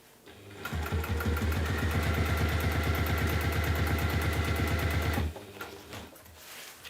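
An electric sewing machine stitches a waxed canvas tote bag, a fast, even mechanical chatter running steadily for about four and a half seconds before stopping abruptly, followed by faint handling noises.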